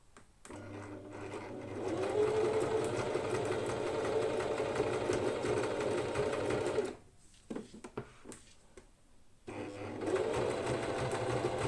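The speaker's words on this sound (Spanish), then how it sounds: "bajo el pie de prensatelas y ya le doy al pedal para ir cosiendo poquito a poco" A sewing machine stitches bag lining under foot-pedal control, whirring in sustained runs that stop briefly for a few clicks and handling sounds before the motor starts up again.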